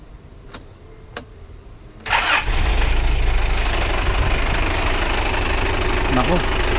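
Military vehicle engine with severe blow-by and oil leaking cranks and starts after two short clicks, then settles into a loud, rough, rattling idle close by.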